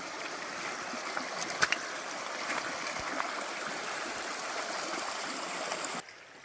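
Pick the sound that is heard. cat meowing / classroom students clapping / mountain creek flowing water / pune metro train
mountain creek flowing water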